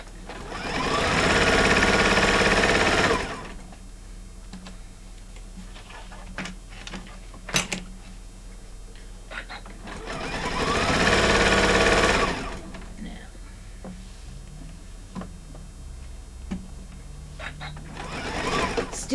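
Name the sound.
sewing machine stitching over a zipper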